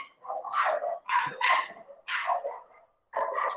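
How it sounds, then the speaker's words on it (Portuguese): Several dogs barking and yipping outside in separate rapid bursts with short gaps between them, moderately loud and with no talking over them. "tem muito cachorro lá fora gritando"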